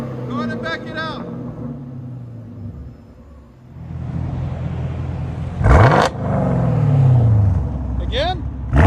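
A Chevy Camaro SS with a 6.2L V8 and Dynomax Race Bullets dual exhaust rumbles at idle, then blips its throttle in sharp revs that fall away, loud and close, with a voice briefly speaking.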